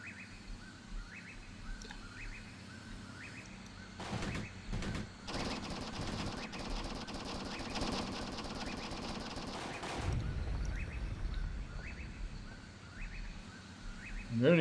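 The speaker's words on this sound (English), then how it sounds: "You guys have a heavy machine gun. Set it up and shoot." Bursts of rapid heavy machine gun fire in the game Graviteam Tactics: Operation Hooper come in several rattling volleys over a constant game background, with speech mixed in.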